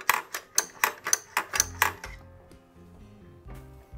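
Spring-loaded doser lever on a Rancilio Rocky espresso grinder clacks eight times in a quick, even rhythm, each snap close and sharp, followed by quieter low rattling and a faint click near the end.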